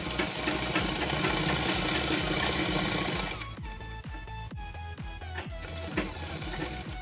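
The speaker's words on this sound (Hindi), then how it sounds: "अब हम इस तरफ से सिलाई लगाना स्टार्ट करेंगे।" Sewing machine stitching salwar fabric, a loud steady mechanical whir with rapid rhythmic needle knocks. The motor runs continuously, with a brief shift in pace partway through.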